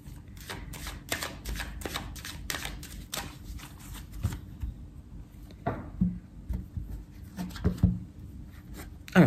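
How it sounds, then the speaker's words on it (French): A deck of mirror oracle cards is shuffled by hand at close range: bursts of crisp riffling and slapping card sounds, quiet pauses between them and a louder flurry near the end. "Battre les cartes, l'oracle des miroirs pour les gens qui attendent le retour de l'ex."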